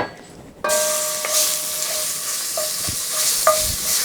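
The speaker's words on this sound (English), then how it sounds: "the sound and smell of garlic. When you first put it in the pan and it's being sauteed" Garlic sautéing in melted fat in a pan gives a steady, close sizzle that bursts in loudly after a quiet start, with a few soft stirring scrapes over the continuous frying hiss.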